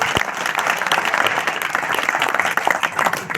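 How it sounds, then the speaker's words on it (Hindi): A crowd at a village felicitation gathering, where a guest is welcomed with a garland, claps in a dense, sustained round of applause that stays loud and even throughout. "तालियां।"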